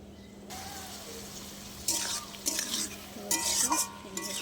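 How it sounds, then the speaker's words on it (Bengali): Onions frying with salt and turmeric in a pan make soft sizzling under a steady hum, with several bursts of spatula scraping and stirring in the second half. "এবার নুন হলুদ দিয়ে এটা কিন্তু ভালো করে ভাজা ভাজা করে নেবো"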